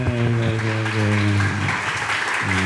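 Applause from the audience at a Ramadan religious study gathering, brief and fairly loud, mixed with a sustained musical tone and some background voices.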